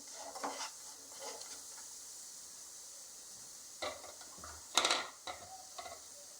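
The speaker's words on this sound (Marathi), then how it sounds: "सारखा हलवायचा आहे गुळाला कारण गुळ चिटकणार नाही" Jaggery being stirred in a pan for sesame laddus gives soft, intermittent scrapes and clinks of a spoon against metal over a faint hiss, with a louder clatter midway.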